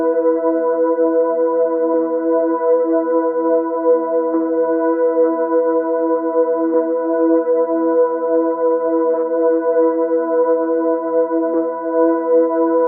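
Sustained synthwave synth pad chords built on plain root and fifth notes, programmed in FL Studio Mobile, hold steady and bright, changing chord every couple of seconds with no other sounds.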